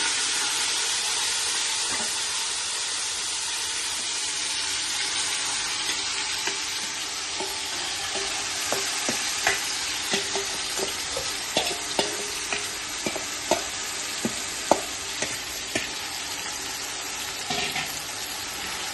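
Marinated paneer and peas fry in a pan, a steady close sizzle with scraping stirs and small clicks of a spoon that come more often toward the middle.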